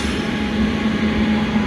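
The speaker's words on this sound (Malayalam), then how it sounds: "നേരത്തെ അനൗൺസ് ചെയ്ത ട്രെയിൻ ഇത് 2-ാം നമ്പർ പ്ലാറ്റ്ഫോമിൽ എത്തിയിട്ടുണ്ട്." The Raptisagar Superfast Express pulls in at platform 2 with a brief, steady, droning rumble and a low tonal hum, close and continuous with no break.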